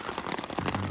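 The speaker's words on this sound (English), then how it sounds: "This is, as they predicted pretty accurately what time the rain was going to start." Steady rain comes down at a campsite in Dolly Sods, a dense, even hiss of close drops pattering on surfaces with no pauses.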